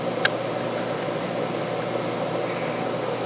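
The wheel of a buffing machine spins fast, giving a steady, even whirring hum with one brief tick near the start.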